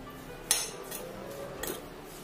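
A spoon stirring seasoning and salt in a bowl, giving a few light metallic clinks and scrapes against the dish, spaced and fairly quiet.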